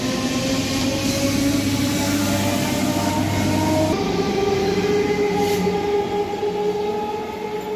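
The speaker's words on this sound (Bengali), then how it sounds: "সামনে তো আমাদের ট্রেন ঢুকছে" A Bandel–Howrah local train enters Bhadreswar station with a loud, continuous rumble of wheels and motors, its tone shifting partway through as it rolls close by.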